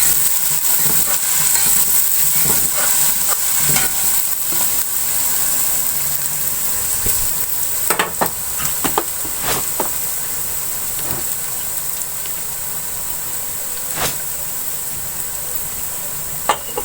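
Onions frying in a pan with garlic paste for an aloo methi sabzi, a steady bright sizzle with stirring clatters and occasional scrapes, close and continuous, no voices.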